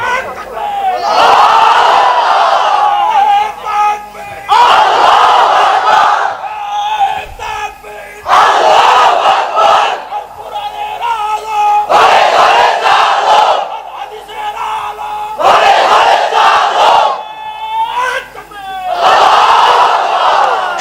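A large crowd roars the takbir in repeated loud unison shouts, each swell lasting a couple of seconds before dropping to brief lulls, the chant returning about five times.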